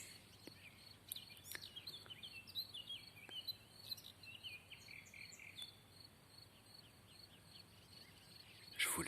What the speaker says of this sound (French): Je vous laisse un petit peu écouter les oiseaux.